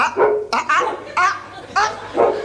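A dog barks five times in separate sharp bursts, fairly close and loud, with short pauses between each bark.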